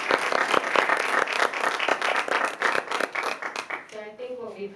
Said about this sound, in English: Let's just do a quick round of applause.